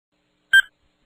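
A timer being set gives a single short electronic beep, bright and clean against silence.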